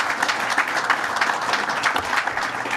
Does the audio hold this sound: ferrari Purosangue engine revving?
no